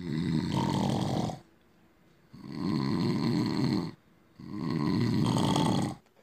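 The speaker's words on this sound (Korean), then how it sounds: "선상 천정이 무너져 내릴 것 같은 큰 소리로 코를 골아댑니다" Loud, rough snoring repeats three times in a slow rhythm, each long rasping breath separated by a short quiet pause.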